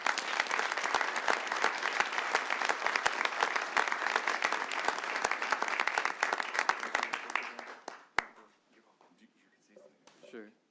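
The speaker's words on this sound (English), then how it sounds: "Please join me in giving Dale a well-deserved round of applause." City council meeting audience applauding a public works part-time employee of the year: sustained dense clapping for about eight seconds, then it fades out and a few quiet voices follow.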